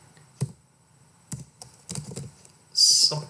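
Scattered keystrokes on a computer keyboard, a few separate taps followed by a short cluster of quick typing, close and clear in an otherwise quiet room.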